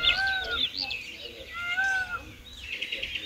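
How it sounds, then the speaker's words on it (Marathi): Loud, piercing peacock calls ring out at a resort in Mahabaleshwar in a few drawn-out, rising-and-falling cries over a faint background hum. "तर जसा की आता बघा मोराचा आवाज येतो"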